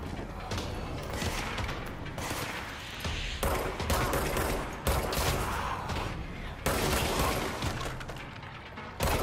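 Shotgun blasts in the game Control, loud heavy shots repeating every second or two amid dense combat noise and mechanical clatter, with a voice talking over it.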